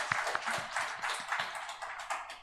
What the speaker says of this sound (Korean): 하나님께 찬양과 영광의 박수를 올려드리겠습니다